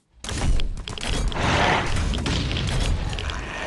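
A rapid burst of gunfire in the survival shooter Last Island of Survival, loud close cracks and booms crowding together into a dense continuous volley that runs on without talk.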